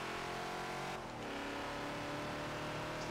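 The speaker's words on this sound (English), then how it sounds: "A little bit of wheel spin, a little bit of back end step out getting on the throttle." A Ford Falcon XB in a Forza racing game spins its wheels on the Daytona banking under throttle, a steady loud engine drone with a brief dip and a rising rev as the tyres scrabble, continuous and close.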